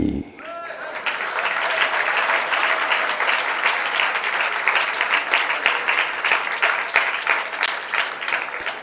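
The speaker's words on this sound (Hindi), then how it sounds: "ताली बज रही है" Steady audience applause fills a religious discourse gathering at a cow shelter and school in Tilwara, dense clapping sustained and fairly loud for nearly nine seconds with no talking.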